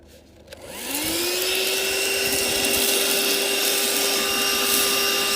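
Handheld car vacuum cleaner switching on, its motor whining up to a steady high-pitched whirring drone that runs loud and close without a break.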